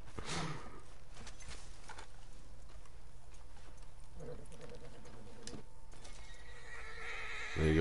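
Horse neighing and hoof clip-clop from Red Dead Redemption 2 gameplay, set against steady game ambience with a louder burst near the end.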